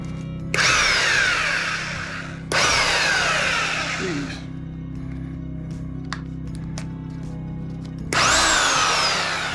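A cheap pawn-shop jackhammer breaking rock at an opal mine roars in three loud bursts, with quieter pauses between them, close by.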